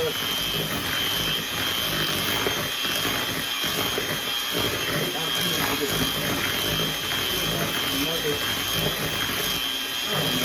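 An electric mixer whirs steadily through chocolate chip cookie dough with a constant motor whine, while a person talks over it.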